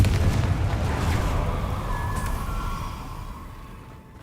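Fiery Confringo blast spell from the Hogwarts Legacy video game erupts loud at the start as a broad explosive boom, then rumbles and fades over about four seconds, with a brief whistling tone in the middle of the decay.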